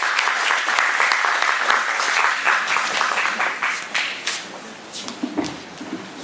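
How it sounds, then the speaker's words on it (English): An awards-ceremony audience claps in a dense, steady burst, then thins into scattered, separate claps near the end. "Round of applause to Dr. Azmi Sharom."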